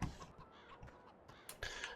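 Chickens in the Farming Simulator 17 video game cluck faintly in a few short, scattered bursts, quiet and close.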